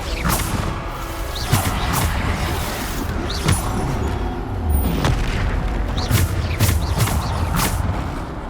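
Bombarda explosion spells in the video game Hogwarts Legacy go off as repeated heavy booms every second or so, over a constant dense wash of battle noise.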